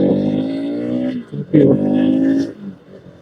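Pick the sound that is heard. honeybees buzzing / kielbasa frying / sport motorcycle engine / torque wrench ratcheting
sport motorcycle engine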